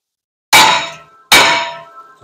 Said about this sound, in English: the hammer that I just used is a four pound